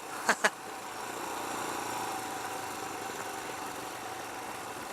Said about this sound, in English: Exhaust sounds meh, I don't know. Sounds like a 400cc single.